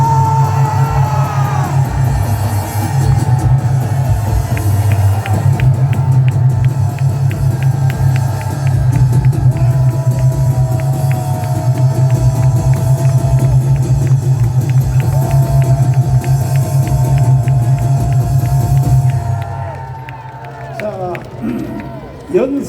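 A large outdoor crowd at a rally in Gwanghwamun gives a standing ovation to a pastor, with loud sustained cheering, whooping and yelling under amplified sound that fades near the end.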